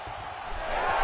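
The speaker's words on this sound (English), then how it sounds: "big pop from the crowd as they get back to their feet after a pretty scintillating grappling battle" Video game crowd in a UFC 5 fight night arena rising into a broad cheer after a grappling exchange, a steady wash of noise that swells slightly toward the end.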